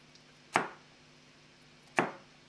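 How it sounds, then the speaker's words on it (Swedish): A knife slices carrots into fairly thick rounds on a cutting board: two sharp, isolated chops about a second and a half apart in a quiet kitchen, with no talking. "sen skär vi dem i slantar så här"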